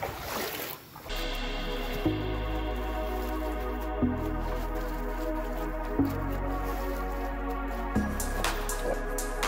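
Leftover water draining from a drained shrimp tank, a continuous wet gurgling and trickling with steady splashing, joined by a low rhythmic pump-like hum that pulses about every two seconds.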